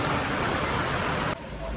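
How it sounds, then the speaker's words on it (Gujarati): Heavy monsoon rain pouring down outdoors near a shop where a motorbike is parked, a loud dense hiss of falling water that drops slightly in level near the end. "ગાઈસ બહુ વરસાદ પડે છે"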